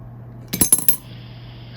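Three quick metallic clinks land in close succession as a coin drops into a talking piggy bank, followed by a faint electronic tone and a steady low hum.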